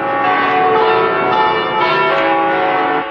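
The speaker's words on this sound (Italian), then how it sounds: "Suonano a morte le campane per scandire la tragedia." Church bells in Turin toll a death knell at noon, a dense, ringing clang of overlapping strokes that fills the air at close, loud range without any voices.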